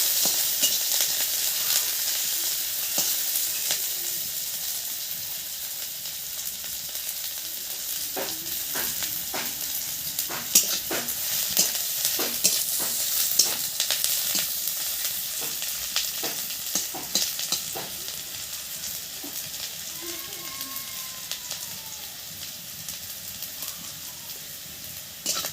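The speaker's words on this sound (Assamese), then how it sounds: "পিঁয়াজখিনি ভালকৈ ভাজি লৈ তাতে ঢালি দিয়া হ'ব মাংসখিনি" Pork and onions fry in a hot pan in an Assamese home kitchen, a steady loud sizzle with repeated scraping stir strokes, no talking.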